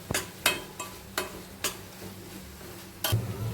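A spoonful of Kokani masala being sautéed in a pan: a soft background sizzle broken by a handful of sharp, separate spatula taps and scrapes, quiet and close.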